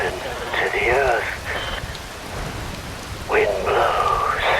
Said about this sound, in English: Rain falls.